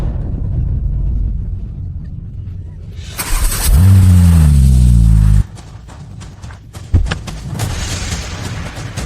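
A car engine roars up with a loud revving rise and then cuts off abruptly as the car pulls away, followed by quieter street noise and scattered thumps.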